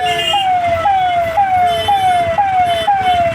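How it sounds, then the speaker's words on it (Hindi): An ambulance siren stuck in a heavy traffic jam on the Patna City bypass, wailing loud and close in rapid repeating downward sweeps about every half second, with traffic rumbling underneath. "कैसे एम्बुलेंस वाले कोशिश कर रहे हैं कि आगे बढ़ने का, लेकिन इस जाम की वजह से"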